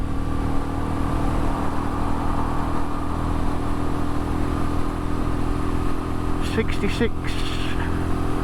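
A Royal Enfield Meteor 350 motorcycle cruises at speed in top gear, with a steady engine drone mixed with wind roar. A rider speaks briefly over it.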